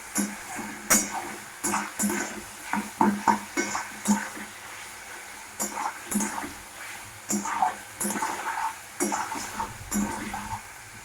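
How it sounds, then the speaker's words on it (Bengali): A spice masala is stir-fried in oil in a pan, with repeated clanks and scrapes of the utensil against the pan over a low sizzle, close by and without talk. "তাও একটু কাঁচা গন্ধ আছে, আমরা আর একটু কষিয়ে নেব।"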